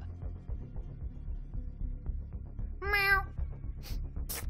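A cat in a GTA video game lets out a single drawn-out meow against steady game background ambience.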